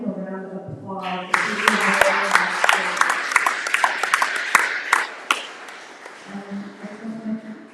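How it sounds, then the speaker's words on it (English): Audience in a hall applauds three artists at an Indigenous art unveiling, a swell of steady clapping with sharp individual claps standing out, rising after a spoken line and fading as a voice resumes. "I'll give them a round of applause."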